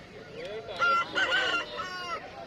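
A rooster crows at a village market selling country and native chickens in Kundarapalli, its long, wavering call rising loud and close above market chatter and other clucking birds.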